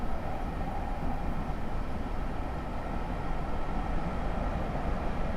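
A steady low rumbling drone of rail travel in Train Simulator 2018 on the North Jersey Coast Line, continuous and even throughout with no talking, a broad heavy noise without distinct horn or clatter.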